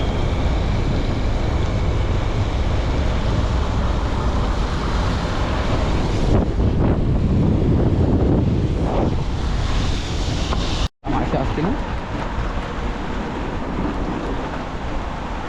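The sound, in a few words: flooded river water rushing under heavy rain in Konkan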